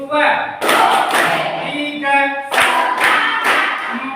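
A class of schoolchildren claps in rhythm along to a teacher's count in an Indonesian classroom, a few sharp bursts of clapping separated by the teacher's voice.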